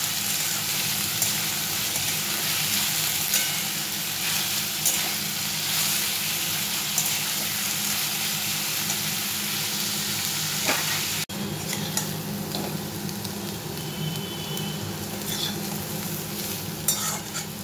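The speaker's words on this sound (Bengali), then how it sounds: "আলু ভাজাটা একটু কড়া করে ভাজবো, মানে অনেকটা টাইম লাগবে ভাজবে।" Potatoes fry until crisp in a pan with a steady, dense sizzle that runs throughout, with occasional stirring scrapes and a brief clatter partway through.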